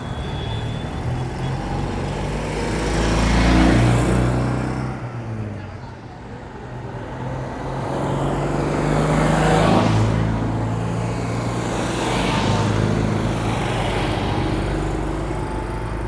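Citroën 2CV cars drive past at the World Meeting of 2CV Friends in Samobor, Croatia, their small engines buzzing and swelling as several pass close by one after another, with voices in the background.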